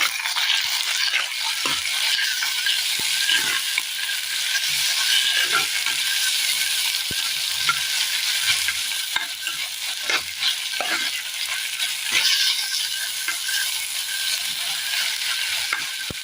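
Sliced onion and long-cut tomato sauté in a pan, with a steady hiss and crackle of frying running throughout and scattered soft stirring clatters on top; no talking.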